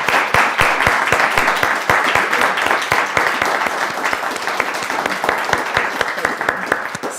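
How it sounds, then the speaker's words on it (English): An audience claps steadily for several seconds after a music forum conversation, a dense, even patter of many hands that fills the room, with no voices over it. "can we give a round of applause to Olivia for this wonderful conversation?"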